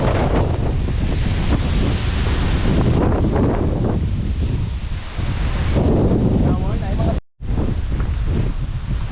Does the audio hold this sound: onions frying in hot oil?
no